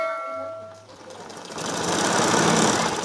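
A Singer Butterfly sewing machine runs steadily while stitching a quilted bedcover, its motor hum swelling louder after a brief lull near the start and continuing close and strong to the end.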